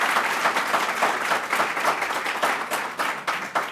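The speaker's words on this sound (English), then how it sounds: "Let's give another round of applause for Congressman Espaillat." Round of applause from an East Harlem audience for Congressman Espaillat at a public announcement event, sustained dense clapping that pulses and thins slightly toward the end, with faint crowd murmur beneath.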